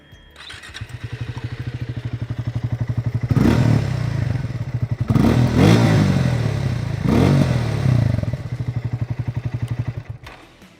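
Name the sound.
Triumph Speed T4 motorcycle exhaust note, bassy and burbly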